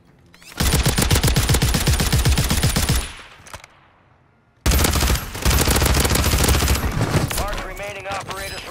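Rapid automatic gunfire in Call of Duty on Rebirth Island, a loud sustained burst of shots, a brief lull, then another long burst with scattered reports.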